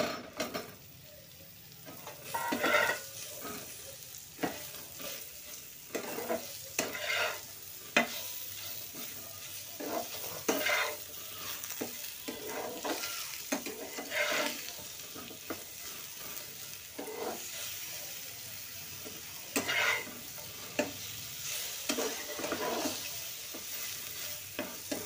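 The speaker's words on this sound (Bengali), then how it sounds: "এখন আমি লেবুগুলো দিয়ে দিচ্ছি। আমার আঁচটা সব সময় কম থাকবে, লেবুগুলো দিয়ে দিচ্ছি" Orange pieces being made into pickle are stirred in a pan over low heat, with a soft sizzle and repeated scraping and clinking of a spoon against the pan at an irregular pace.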